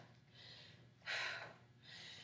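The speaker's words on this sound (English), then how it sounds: "You hear my breathing?" Heavy breathing during a workout, with two or three loud, close, breathy exhales or gasps separated by softer inhales over a low background hum.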